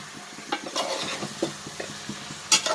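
Dried fish frying in oil in a pan for a dried fish curry, a soft sizzle under repeated stirring clinks and scrapes of a utensil against the pan, close by.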